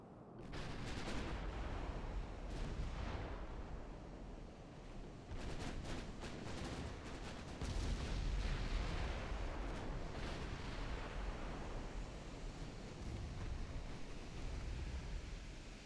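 Naval main guns firing in Ultimate Admiral Dreadnoughts, a run of heavy booms and rumbling blasts, some overlapping and some spaced out, with a low roar like surf between shots.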